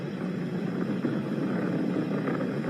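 SpaceX Falcon 9 rocket engines roar during ascent through supersonic flight and max Q, a steady, dense broadband rumble heard from a distance with no breaks and no voices.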